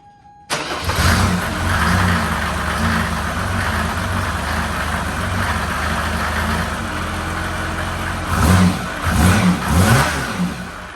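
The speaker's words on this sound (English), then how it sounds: "So I guess I'll start it for you, and you guys can watch everything rattle around the engine bay." A Mercedes W123 300TD fitted with an OM606 diesel engine cranks and catches abruptly, then runs loud and steady with a rough rumble, revving up twice near the end; close by.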